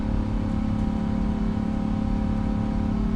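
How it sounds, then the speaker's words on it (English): Steady, droning Boeing 777-200ER jet engine hum in the PMDG flight simulator, a continuous low rumble holding even and loud throughout with no talk. "God, those engine sounds are so good now, man."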